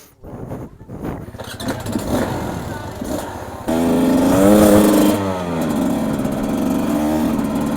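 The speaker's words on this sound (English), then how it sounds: "the Beta 250 two-stroke" A Beta 250 RR two-stroke motorcycle engine idles raggedly, then revs up hard in a loud rising blat before settling back, close and alone.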